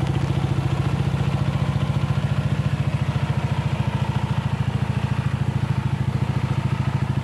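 A Suzuki Shooter motorcycle engine, freshly fitted with a substitute connecting rod and piston, runs at a steady idle with an even, rapid mechanical putter close by, without talk.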